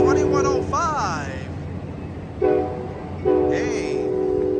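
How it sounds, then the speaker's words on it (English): Amtrak Capitol Corridor train number 748, bound for Sacramento, departs Oakland's Jack London Square station with loud harmonic horn blasts: a long opening blast, then two more, over steady rumbling rail noise and a voice in the background. "That train just jetted out of the platform"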